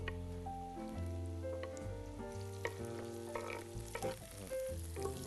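Tomatoes are added to onions frying in a pan, giving a constant sizzle and some stirring clatter under a background of sustained musical tones.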